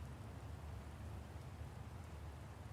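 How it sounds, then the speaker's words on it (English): Heavy rain pours in a constant, low, dense roar with no breaks, steady and enveloping throughout, free of any talking. "And then it started pouring."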